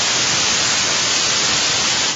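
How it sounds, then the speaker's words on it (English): Steady hiss of white noise from a Sound Lab synthesizer, loud, even and unbroken, fading slightly at the very end. "White noise."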